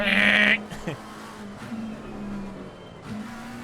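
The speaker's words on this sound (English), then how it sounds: "Listen to that engine." A race car engine in the video game Assetto Corsa Competizione hums at a steady low pitch, briefly cut by a sharp high whine at the start, with a couple of quick revs and shifts.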